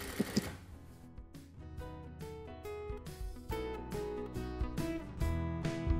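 Sewing machine stitching twill tape onto a polo shirt collar, running in short repeated bursts of rapid mechanical clatter with brief pauses between them, close and clear with no talking.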